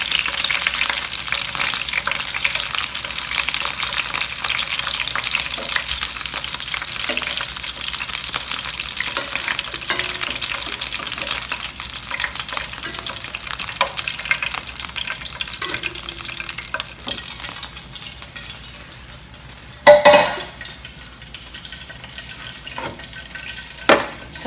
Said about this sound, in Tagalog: We are already browning our chicken.